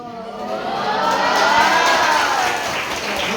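A school audience at an assembly in an Islamic junior high school bursts into sustained applause and some cheering for a teacher named Irwan Tarpono, loud, dense and steady, with a rising vocal whoop over the clapping.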